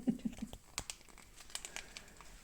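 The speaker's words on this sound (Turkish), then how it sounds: "Açtık paketi." A package is opened with close, scattered crinkles and crackles of plastic, with a few soft thumps near the start.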